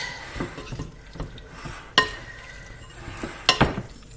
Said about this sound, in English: I mix it up a little bit.